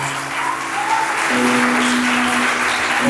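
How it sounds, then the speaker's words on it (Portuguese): Congregation applauding during an Assembly of God church celebration service, a steady wash of many hands clapping that fills the whole stretch at fairly loud level, with a faint sustained organ or keyboard tone underneath. "Você pode dar uma salva de palmas?"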